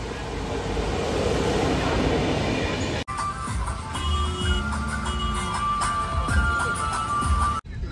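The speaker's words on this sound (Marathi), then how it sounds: "A Prachi train oily" A train rolls past close to the tracks near Lonavala railway station, a loud continuous rumble and clatter with ringing metallic tones that carries on steadily and ends abruptly, with a voice faintly present.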